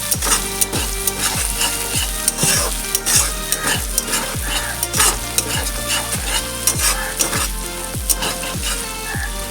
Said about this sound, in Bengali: এবার এটা কষিয়ে নেবো একটু ভালো করে।